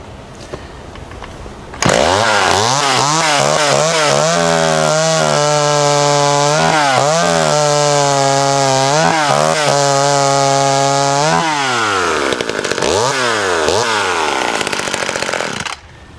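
A vintage mini chainsaw cuts through wood, roaring loud and close for about fourteen seconds with a steady engine pitch that dips repeatedly under load as the chain bites, then revs freely before cutting off.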